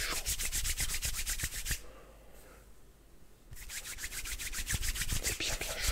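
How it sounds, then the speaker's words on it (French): Hands rub briskly together with lotion to warm them, making close, dry swishing strokes in a quick rhythm. The strokes pause for about two seconds in the middle, then resume at the same pace. "Et on frotte. D'abord les mains, on fait chauffer."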